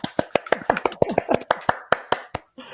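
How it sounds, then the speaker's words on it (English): A round of applause for a guest welcomed onto a live show, heard as a few sharp, close individual hand claps in an uneven rhythm that stop briefly near the end. "Let's give her a round of applause."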